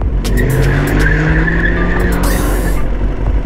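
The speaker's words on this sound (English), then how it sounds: "Yeah, there's a car coming, you know that, right?" A car rolls up through an intersection on a city street at night, its engine and tire noise steady and close, with a brief hiss or screech near the end.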